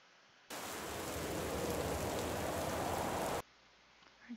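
Rain ambience from the video game Gone Home: a steady, full downpour hiss fades in abruptly, holds evenly for about three seconds, then cuts off to quiet room tone.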